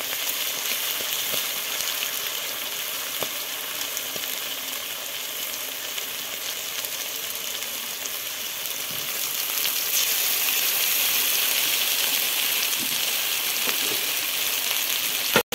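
Eggplant and spices fry steadily in hot oil in a pan for mustard hilsa, giving a soft, continuous sizzle that swells a little louder partway through, with no talk.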